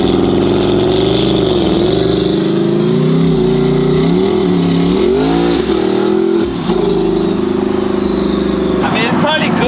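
A King Cobra car engine idles and revs loudly and steadily close by, its drone rising and falling in pitch, with voices talking over it.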